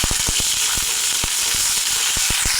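Chopped green chillies hit hot oil with a tempering of bay leaf, dried red chilli and black cumin, giving a loud, dense sizzle with scattered sharp crackles and pops throughout.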